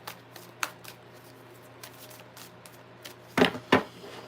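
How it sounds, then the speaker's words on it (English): Tarot cards being shuffled by hand: a few light riffling flutters early, then two louder, closer shuffle bursts near the end over a quiet background. "I'm going to do 3 more shuffles."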